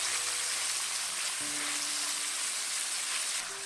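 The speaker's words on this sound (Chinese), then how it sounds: "油热之后，把豆腐丁倒入锅中，给它煎一下" Diced tofu frying in hot oil in a pan, a steady bright sizzle with faint background tones and no talk.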